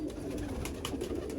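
Teddy pigeons, a rare fancy breed, coo softly in a loft, with low murmuring calls layered over faint rustling and background noise.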